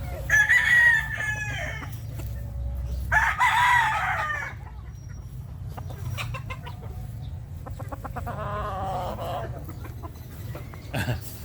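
Fighting roosters crow loudly and close by in two long calls, then cluck and call more softly, with faint talk in the background on a farm.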